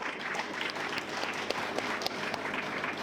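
A crowd at a South Carolina Secretary of State campaign launch applauds, a dense, continuous patter of clapping at moderate distance for about three seconds.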